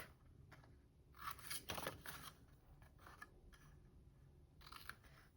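Scissors snip through folded paper card stock, trimming a small triangle off a mitered corner; a few quiet, close cuts and rustles with no voice.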